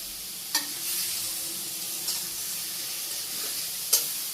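Radish and greens frying in a pan with a steady, close sizzling hiss, broken by a few sharp spatters and light stirring taps.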